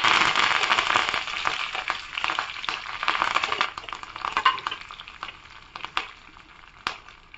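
Crushed garlic and curry leaves hit hot frying oil while tempering for a coconut chutney, giving a loud, close, hissing sizzle that slowly eases, with scattered sharp crackles and pops toward the end. No voice is heard.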